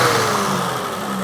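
A Leyland E6 2.6-litre six-cylinder engine in an Australian Marina revs hard and rough, a loud, close, sustained engine roar with a slowly shifting pitch and no voices.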